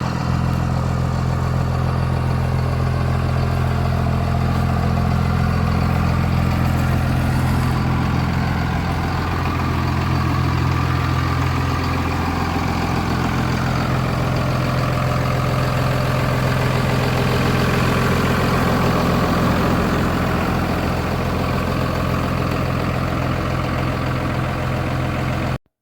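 A 3/4 ton truck engine idles steadily and close, a continuous low rumble with no talk over it.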